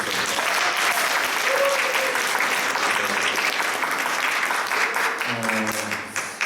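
Sustained applause from a church congregation at a Sunday service, honoring three students who finished their study course, fills the room steadily before tapering off as a voice returns near the end.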